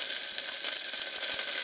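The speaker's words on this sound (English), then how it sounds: "Got a pretty good boil." Water at a rolling boil in a pot over an open cooking fire, a dense steady hiss and bubbling with small pops, close and continuous without talk.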